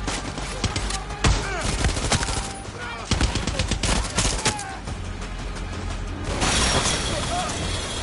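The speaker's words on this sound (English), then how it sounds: "Bloody turret gun." Mounted turret gun in the shooter game Far Cry 6 hammering out rapid bursts of automatic fire, dense sharp reports with a louder roaring stretch near the end, with a voice talking over it.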